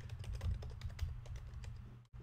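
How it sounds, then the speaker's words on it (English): A password is typed on a computer keyboard during a Gems of War game stream: a fast, steady run of soft, faint keystrokes over a low hum, with no talking. "Problem is, I'm not typing it correctly."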